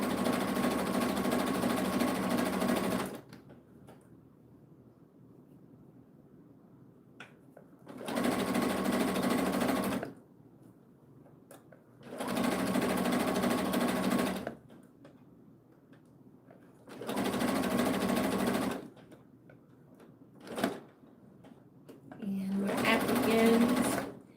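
A sewing machine back-stitches fabric in five loud bursts of rapid, even needle chatter, each a few seconds long, separated by quiet pauses and a single short clunk.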